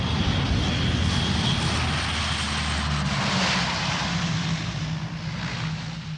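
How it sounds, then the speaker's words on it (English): Engines of an RAF Hercules transport aircraft landing on a bomb-cratered runway in 1971, a loud continuous propeller drone with steady low hum, close by and heard alone. "the first of the RAF Hercules lands between the bomb craters on a stretch of runway"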